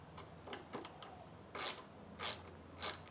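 Small metallic clicks and ratcheting as a nut is unscrewed from a pannier mount on a Triumph Trekker, a few light ticks followed by three louder rasping turns, close up and without talking.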